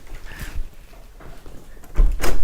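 An indoor door swings open to let a cat out of a room, with a brief knock and a soft rush of movement near the end after a quiet stretch.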